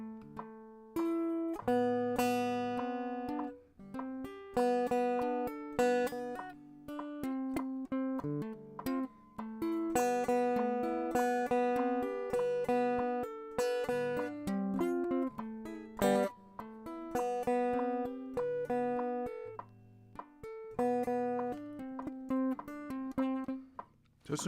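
Electric guitar playing a steady picked exercise at 100 BPM, with rapid, evenly spaced plucked notes in repeating phrases, close and moderately quiet, running without pause for the whole stretch.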